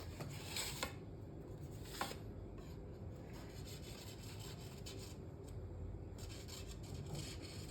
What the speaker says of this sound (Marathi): तिने केक कट केले